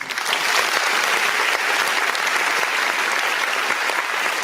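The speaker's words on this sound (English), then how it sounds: "we want you all to give Savannah a round of applause as she makes her way to the stage" An audience gives a sustained round of applause at a Women's History Month kickoff event, dense steady clapping filling the room at full level for the whole stretch with no break.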